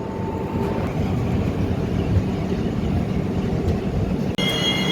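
Steady, loud rumble of the Vasco da Gama to Secunderabad train in motion, heard from on board, with a brief high squeal and a short dropout near the end.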